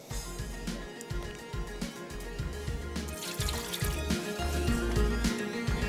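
Water splashes and pours out continuously from a container after greens such as mustard leaves and spinach have been washed, a running, gurgling flow close by with no talk.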